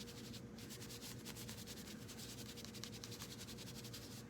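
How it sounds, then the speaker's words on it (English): Baking soda being scrubbed into a foam dollar-store pumpkin, a quiet steady rubbing and scratching with a quick repeated rhythm and no talking. "I just kind of scrubbed it in there good"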